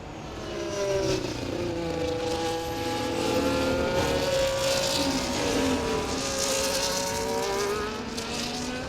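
Three Formula 1 cars race down the main straight at Baku in an F1 video game, engines whining loudly with rising and shifting overlapping pitches as they pass close together, steady and continuous with no talk.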